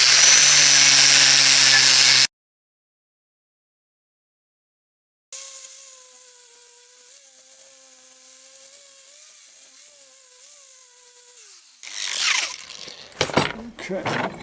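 Power tool polishing a tomahawk head to a shine: a loud buffing whir at the start, a pause, then a quieter steady motor hum with a varying pitch, followed by bursts of scraping and knocks near the end.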